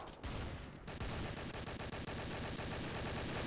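Rapid gunfire from a first-person shooter game rattles on continuously at close range, dense bursts of shots with a brief gap near the start, loud and alone with no talking.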